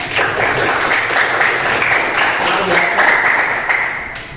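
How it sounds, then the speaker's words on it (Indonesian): Classmates in a school classroom applaud two fellow students, a dense, steady wash of clapping that holds at an even level for about four seconds before easing off. "Berikan tepuk tangan untuk kedua teman kalian"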